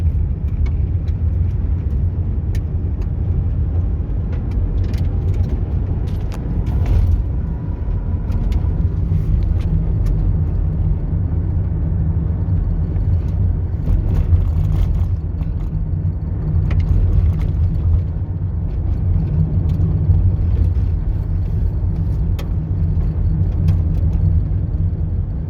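Steady in-car road noise from a car on a long drive home from work, a continuous low rumble and whir of engine and tyres with small bumps, no one speaking.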